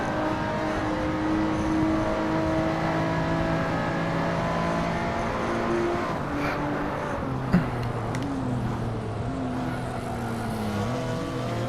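A pack of race cars in the Hot Wheels video game drives in a tight train, their engines a steady, close droning whine that shifts pitch slightly as they jostle, with no one speaking.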